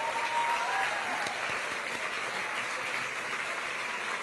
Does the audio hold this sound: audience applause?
yes